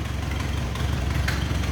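A 1928 Ford Model A roadster's 201 inline-four L-head engine idles steadily, with a low, even chugging pulse that holds close and moderately loud throughout.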